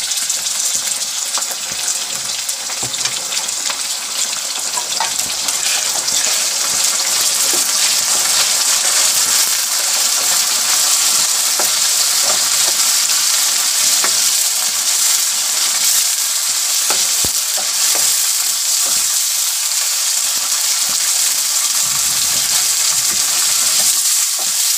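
Cauliflower hitting lightly browned onions for a gobi gosht dish, a loud, steady frying sizzle with a bright crackling hiss that holds evenly throughout, close up with no talking.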